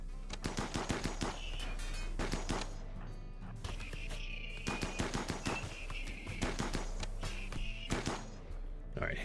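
Rapid bursts of automatic gunfire from the RimWorld video game, sharp repeated shots in clusters with short pauses, some high whines between volleys.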